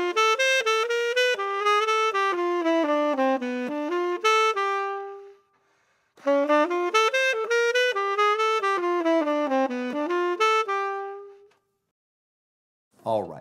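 A bebop lick over a classic 2-5-1 progression, written out in single-time eighth notes, played as two clear melodic phrases of steady eighth notes on a solo horn, each ending in a held note, with a short pause between them.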